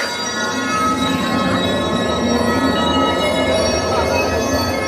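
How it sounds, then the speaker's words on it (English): Bells ring continuously on Main Street at Disneyland Paris, their steady tones sitting over a dense, busy crowd wash at moderate loudness, with no clear talk. "Man, there's a lot of bells going on here."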